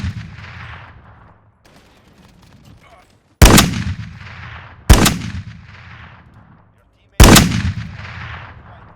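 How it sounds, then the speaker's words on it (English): Three loud, close gunshots from a rare weapon in the Modern Warfare game files, each a sharp crack with a ringing decay, spaced about one to two seconds apart after a quieter opening stretch. "here is what the gun sounds like from the files of the game"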